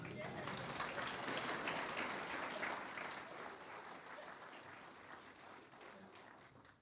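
Sustained applause from the audience at a county chamber of commerce annual meeting, a dense wash of hands clapping that swells early, then thins and settles to a steady, softer patter.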